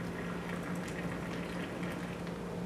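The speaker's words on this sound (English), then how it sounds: "Is it carbonated or is it just carbonated, bubbling?" A carbonated berry drink fizzes and bubbles with a steady, close, continuous crackle of tiny popping bubbles, and no voices are heard.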